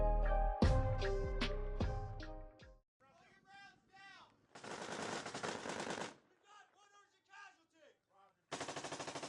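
Rapid bursts of automatic gunfire rattle loudly, broken by pauses and single heavy shots, with a dramatic musical tone at the start.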